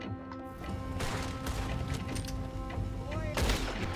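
Gunfire in Red Dead Redemption 2, several sharp shotgun-like blasts spaced across the moment over a steady game background hum, moderately loud.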